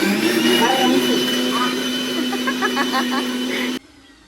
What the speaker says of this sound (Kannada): ಕೊತ್ತಂಬರಿ ರುಬ್ಬು ಸ್ವಲ್ಪ ನೀರು ಹಾಕಿ